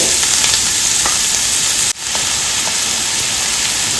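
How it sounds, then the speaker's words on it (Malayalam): Chopped onion frying in coconut oil gives a loud, dense, continuous hissing sizzle up close, with faint stirring clicks and a brief dip in the sound near the middle. "ഇനി നമുക്ക് ഇതിലേക്ക് ഒരു വലിയൊരു സവാള കട്ട് ചെയ്തിട്ടുള്ളത് ഇട്ട് കൊടുക്കുന്നുണ്ട്"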